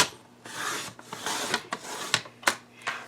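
Scissors or a blade trimming Easter basket material to length, a few dry rasping strokes followed by sharp snipping clicks, close and clear with no talk.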